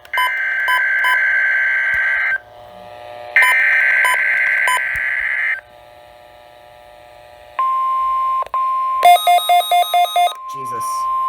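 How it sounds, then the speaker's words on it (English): Alert tones from a NOAA Weather Radio weekly test: long steady warbling tone bursts separated by pauses, then a sustained single tone and a rapid series of beeps, loud and close, with no talk. "This is a test of the NOAA radio warning alarm device"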